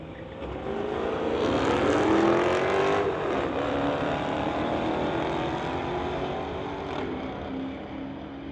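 Drag racing cars, a 2018 Dodge SRT against a Chrysler, roar loudly down the strip with a rising engine howl that sweeps upward as they accelerate and then holds a sustained, dense blare.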